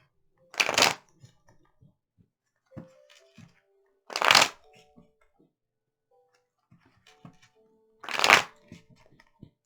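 Tarot cards are shuffled three times in crisp riffling bursts, spaced a few seconds apart, with quiet handling clicks and taps in between.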